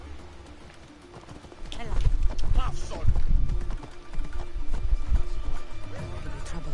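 Hooves clip-clop in an irregular, near rhythm as a horse is ridden in Assassin's Creed Odyssey, mixed with ambient game sounds while a voice speaks briefly over them.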